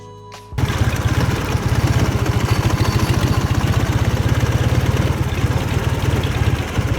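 A vehicle engine cranks briefly and then runs steadily at low revs, a loud close rhythmic chugging pulse that holds even to the end.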